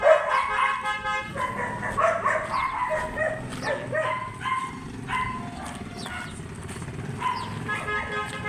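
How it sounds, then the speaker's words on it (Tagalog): A dog barks repeatedly at people walking along a residential street, sharp yelps scattered over steady outdoor traffic noise, with a car horn tooting and people talking nearby. "Tinahol tayo ng aso."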